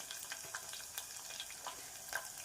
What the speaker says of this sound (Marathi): त्यासोबतच शेंगदाणे छान लाल होईपर्यंत करणार आहोत